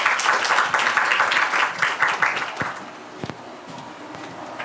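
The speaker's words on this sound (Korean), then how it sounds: "뜨거운 박수 부탁드리겠습니다" An audience at a Korean party forum claps warmly as a Democratic Party supreme council member is welcomed to the stage, dense loud applause that thins and fades out after about three seconds into a quieter room.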